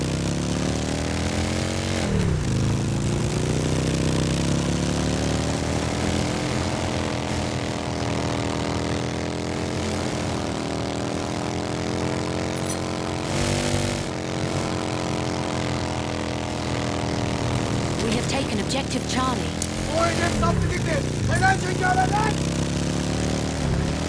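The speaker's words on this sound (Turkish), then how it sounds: "Bir düşman bombardıman tayyaresi görüldü." An enemy bomber's propeller engines drone in a Battlefield 1 match, a steady loud pulsing hum with shifting pitch, overlaid by gunfire and explosions, with talk over it.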